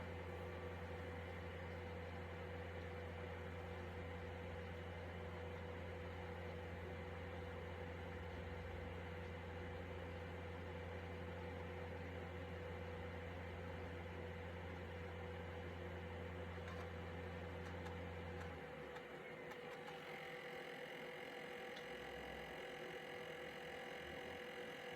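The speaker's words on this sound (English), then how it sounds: "sounds like this CD drive is not particularly happy" A CD drive in a DEC HiNote VP TS30H laptop spins noisily with a steady whirring hum and broadband hiss, near and continuous, with the tone shifting and thinning toward the end.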